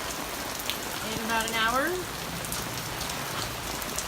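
Heavy rain falls steadily on a garden, a dense even patter all the way through, while someone speaks briefly over it.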